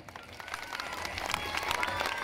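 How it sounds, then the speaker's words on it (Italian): A concert audience at a show breaks into applause, the clapping swelling from scattered to a dense, steady roar over about two seconds. "vorrei che venisse insieme a noi a fare un grandissimo applauso"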